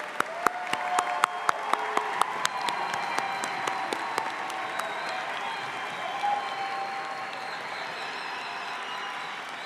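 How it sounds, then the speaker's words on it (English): A commencement crowd applauds the graduates, a few sharp nearby claps standing out at first over broad, steady clapping from a large audience that continues evenly to the end. "How about another round of applause for our graduates?"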